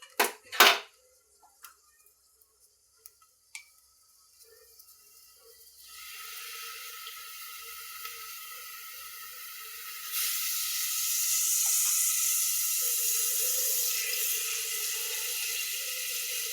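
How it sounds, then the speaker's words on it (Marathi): Oil poured into a pressure cooker heating on the stove for khichdi: a few sharp metallic clinks at first, then a steady hiss that grows louder and fuller partway through and keeps going, with no talk. "आता तेल टाकत आहे मी."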